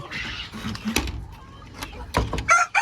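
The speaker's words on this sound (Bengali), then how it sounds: "এটা হচ্ছে আমার হেজা মুরগি।" Desi hens in a small poultry farm clucking and calling nearby in short uneven bursts, with sharp cackles toward the end.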